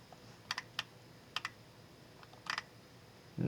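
A computer mouse clicking on a website, with a few sharp, close clicks in small clusters and pauses between them, quiet and alone.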